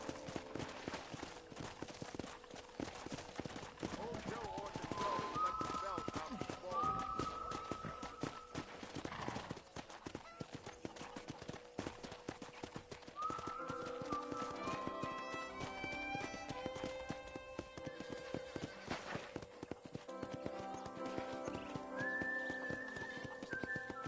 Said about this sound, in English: let's see if you can still ride a horse.